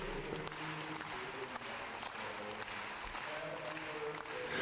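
Crowd clapping steadily, a broad sustained patter of many hands heard from a moderate distance, with faint voices mixed in.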